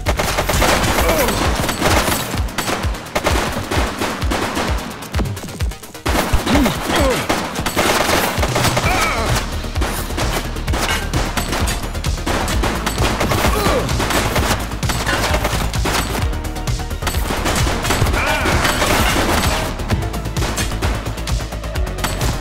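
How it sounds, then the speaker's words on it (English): Gunfire fills a shootout in The Precinct, a police action video game: loud, dense volleys of rapid shots and bursts run continuously for over twenty seconds, with no voices. "Shots fired!"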